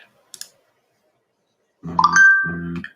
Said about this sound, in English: And there I just received a text message with the alert as well.